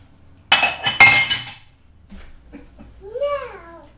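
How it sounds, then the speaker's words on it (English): Utensils clink sharply against a bowl a few times as food is mixed, close by, followed by a young child's babbling. "And then you're going to go mix and mix and mix."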